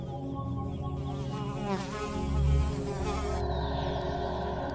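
A housefly buzzes steadily near a carnivorous plant, a close, continuous droning whine that swells and dips in pitch as it moves, with no talking.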